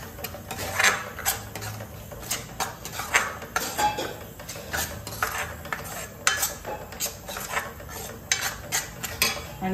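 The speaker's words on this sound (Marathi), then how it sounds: "दोन्ही वाटण मी एकदमच घालून परतून शिजवून घेणार आहे," Ground masala paste is stirred and sautéed in a pot for a chicken curry, with a metal spoon clanking and scraping against the pot in repeated bursts over a low background sizzle.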